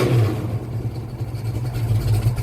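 A Pontiac LeMans with a 455 V8, 9.5:1 compression, 6X heads and an X-pipe exhaust rumbles close by, a deep throbbing burble with pulsing rises as it revs, loud and steady with no voices.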